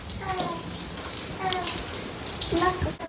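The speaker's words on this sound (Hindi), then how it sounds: "देखिए कितना तेज बारिश हो रहा" Heavy rain falls steadily outdoors, a dense hiss and patter of drops with a few splashy bursts, fairly close and continuous for about three seconds.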